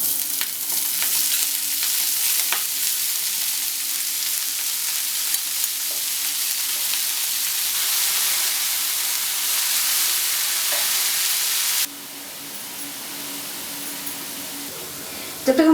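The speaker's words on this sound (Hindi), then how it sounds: "ऑयल जो हमारा है वो गर्म हो गया है. अब इसमें हम लोग मेथी को डाल देंगे." Fenugreek leaves (methi) fry in hot oil with a loud, steady, close sizzle that drops to a gentler crackle near the end.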